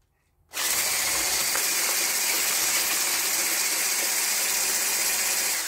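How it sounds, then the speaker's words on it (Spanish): A hand blender whips lemon tiramisu cream, starting abruptly and then running as a steady, loud, continuous whir to the end, with no talk. "con una simple batidora, con el accesorio de triturar o las varillas, da lo mismo que con los dos sale, comienzo a mezclar y a batir"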